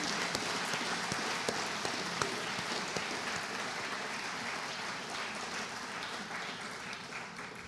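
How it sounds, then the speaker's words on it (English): An audience at a 4-H awards ceremony applauds honored guests, with sustained, dense clapping that fills the hall at an even level and slowly tapers off. "please give a round of applause for our honored guests"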